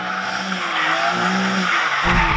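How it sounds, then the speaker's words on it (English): A BMW M3 Competition slides around with its tires skidding in a long, steady squeal over the engine's drone, loud and close throughout. "seeing how easy the car is to slide around"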